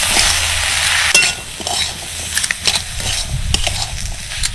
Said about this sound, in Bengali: এবার সব কিছু ভালো করে মিশিয়ে নেব